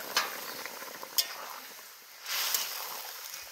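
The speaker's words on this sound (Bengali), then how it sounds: "এখন তরকারিটা ছেড়ে দিই।" Papaya and magur fish curry tipped into a hot pan of spiced fish oil, giving a close hiss and sizzle with a stirring scrape and a louder burst near the end, no voices.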